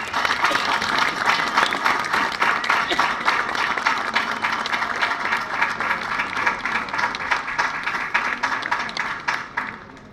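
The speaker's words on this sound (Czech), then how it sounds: "Poprosím veľký potlesk." Sustained applause from an audience at a trumpeters' competition in Pelhřimov, dense steady clapping filling the hall for about ten seconds before tapering off at the end.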